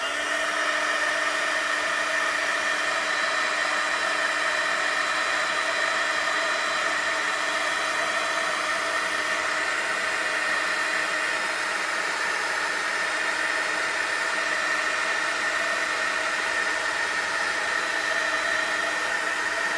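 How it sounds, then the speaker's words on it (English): A heat tool blows steadily to dry gel medium on a junk journal card, a loud, unbroken whirring hiss with a constant motor tone for the whole stretch, close and without talk. "I'm going to just dry it real quick with you guys right here"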